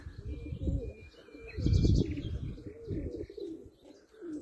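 Homing pigeons arriving as a flock, with soft throaty cooing and a few chirps close by and a brief flurry of wingbeats, outdoors with no voices.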